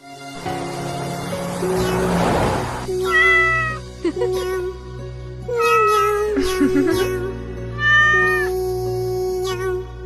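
Several cats meow in a busy run of repeated, fairly loud calls, some drawn out and rising, with a burst of rustling handling noise near the start and a low background hum throughout.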